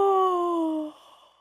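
A vocal coach gives a single drawn-out yawn during a singing lesson. The voiced, moaning tone slides gently downward, then trails off into quiet breath.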